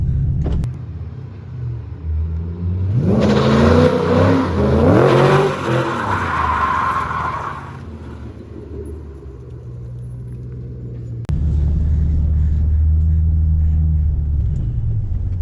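A Ford Mustang with a steering angle mod, drifting after being stalled, gives a loud engine rev with rising, wavering tire squeal and rumble for several seconds, then settles into a steady low idle rumble.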